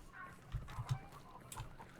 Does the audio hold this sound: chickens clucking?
yes